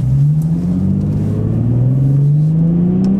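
A 2012 Infiniti G37x sedan's engine revs up steadily and loudly under manual paddle shifting, its pitch climbing smoothly and continuously.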